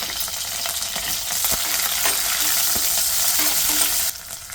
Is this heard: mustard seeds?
yes